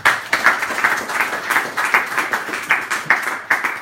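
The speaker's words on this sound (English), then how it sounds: "He needs a big round of applause." A conference audience at a PHP developer user group launch gives a lively round of applause, loud and close, with clapping in a quick, steady, pulsing rhythm throughout.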